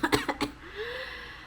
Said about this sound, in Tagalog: uubo muna ako